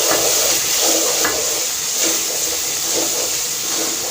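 Ground red chilli, coriander and turmeric fry in hot oil for aloo matar sabzi, giving a loud, continuous sizzling hiss with occasional soft stirring taps close by.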